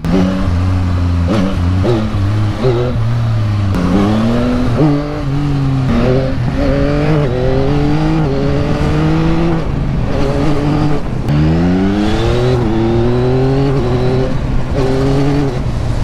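A 2025 Yamaha XSR 900 motorcycle being ridden on new tyres, its engine revving up and down through repeated rising pitch sweeps as it accelerates and shifts, loud and close with no talking.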